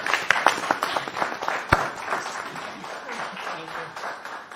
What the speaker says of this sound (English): give Jenny a round of applause this morning